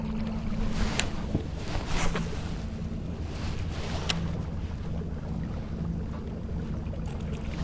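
A boat's trolling motor runs during topwater bass fishing, a steady low hum under wind and water noise, with a few faint knocks and splashes scattered through.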